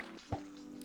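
A short wet drip-like splash as a used bowl is filled with lake water in Minecraft, a single soft liquid blip standing out over a steady background tone.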